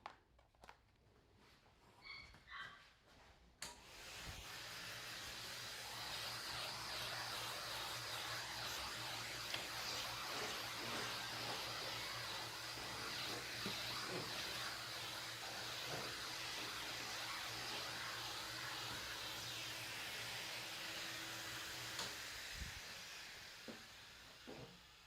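A clipper vac fitted with a shop vac nozzle sucks dog hair off a grooming table, giving a steady, loud rushing hiss that starts after a few seconds of handling noise and runs unbroken to the end.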